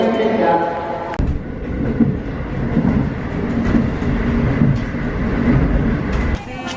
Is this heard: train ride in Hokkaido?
yes